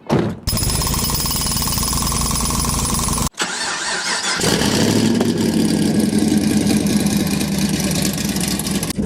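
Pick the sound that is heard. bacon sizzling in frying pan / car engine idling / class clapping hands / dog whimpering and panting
car engine idling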